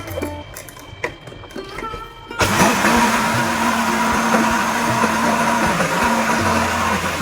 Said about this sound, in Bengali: এখন আমি সরষাটা ব্লেন্ডার করে নিব।